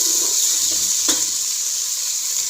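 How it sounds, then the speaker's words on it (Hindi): Ginger and garlic added to light-brown frying onions for a chicken dish, giving a soft steady sizzle with a single sharp clink of a spoon as it is stirred, close and alone. "अब मैं इसमें डालूंगी अदरक लहसुन,"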